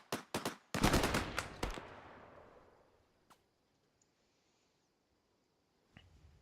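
Close rapid bursts of automatic gunfire in Arma, several sharp cracks then a longer burst that echoes away into quiet, followed by a couple of faint distant shots.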